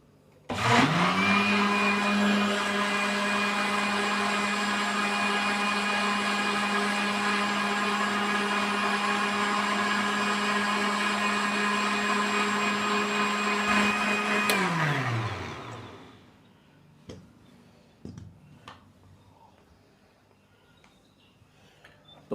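A kitchen blender grinds yogurt, salt and water for salted lassi, a loud, steady motor whir running for about fifteen seconds before it winds down and stops, followed by a few faint clicks and knocks.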